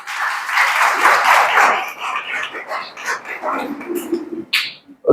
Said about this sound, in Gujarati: આપણે સૌ તેમનું તાળીઓથી સ્વાગત કરશું